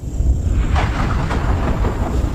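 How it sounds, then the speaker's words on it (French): A volcanic eruption strong enough to throw off lightning rumbles in a deep, steady roar, with a few thunder-like booms rising out of the continuous low noise. "La puissance de l'éruption est si forte"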